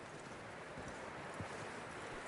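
Hooves of a horse in Red Dead Redemption 2 clop faintly and unevenly at a distance, a few soft steps under a low ambient bed with no speech.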